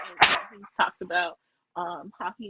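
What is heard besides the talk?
dog barking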